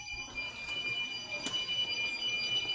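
Fire alarm ringing in a smoke-filled Casas Bahia store, a thin steady high-pitched electronic tone sounding continuously and faintly over background noise, with one sharp knock partway through.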